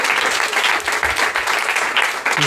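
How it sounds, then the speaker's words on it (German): Crowd at a live stand-up comedy show bursts into steady, dense applause, loud and close, with a brief flicker of voice near the end. "Applaus für diese komische Truppe"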